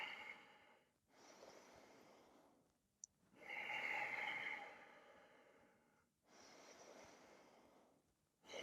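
Deep breaths during a vinyasa power yoga flow: a long audible inhale, a pause, then a fuller, drawn-out exhale, followed by another breath, close and unhurried with no talking.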